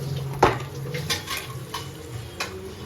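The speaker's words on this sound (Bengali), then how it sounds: "এবার এটাকে আমি ভালো করে নেড়ে নেব।" Cashews are stirred into date-jaggery payesh in a pot with a spoon: one sharp clink against the metal, then a few softer knocks and scrapes spaced out over a quiet, faint background.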